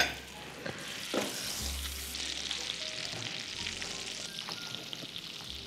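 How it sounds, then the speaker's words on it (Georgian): Butter melting and sizzling in a pan for a breakfast dish, a soft, faint, continuous crackle with a few light knocks near the start. "აი ამ კარაქში რომელიც ძნება ნელ-ნელა ვასხავ ამ კვერცხს"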